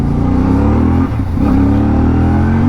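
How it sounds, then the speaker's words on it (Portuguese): A CF Moto 450 MT motorcycle with a remapped ECU is revved hard nearby, a loud, steady engine drone that dips briefly and then climbs again. No voices are heard. "E eu arranco esta moto do gás"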